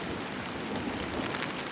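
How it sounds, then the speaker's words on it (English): Steady, close rain hisses down on a mountain trail during a Continental Divide Trail thru-hike in a lightning storm, a dense unbroken wash of drops with no voices. "It's just wave after wave after wave of rain."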